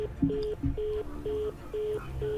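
A phone line cutting off after a call: a repeating electronic tone of evenly spaced beeps, about five pulses with short gaps, fairly clear and alone.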